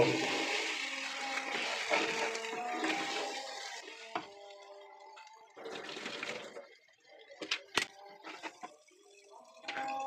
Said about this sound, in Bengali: এখন আমি এর মধ্যে পানি অ্যাড করব